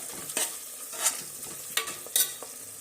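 Masala for egg biryani fries in a pan, a steady sizzle broken by several sharp scraping stirs of a spoon against the metal, close and alone with no talk.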